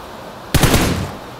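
In PUBG on the snowy Vikendi map, gunfire breaks a quiet moment with a sudden loud burst of several rapid shots that fades over about half a second.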